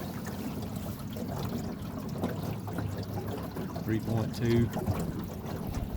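Water swishes and trickles steadily along a small boat driven by an electric trolling motor on a lake, with a continuous low wash and someone speaking briefly over it.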